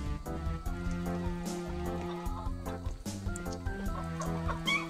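Rhode Island chickens cluck steadily and busily while feeding on papaya, several birds calling over one another close by, with a dense layered backdrop of overlapping clucks throughout.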